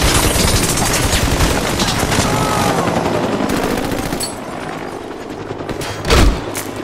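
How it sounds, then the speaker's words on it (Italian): Helicopter machine gun fire in the video game Army of Two: The Devil's Cartel, a dense, continuous rattle of gunshots and rumble lasting several seconds, easing slightly before a short louder burst near the end. "Sì, quell'elicottero spara sul serio!"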